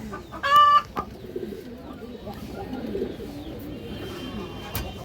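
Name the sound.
pigeons cooing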